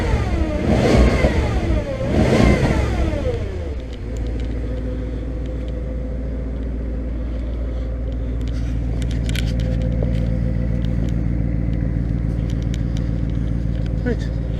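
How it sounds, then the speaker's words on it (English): Porsche Cayenne Turbo with a cheap modified exhaust, revved twice in quick succession, then settling into a steady, loud idle rumble with a faint extra burble. "A little bit more burble, not a huge amount."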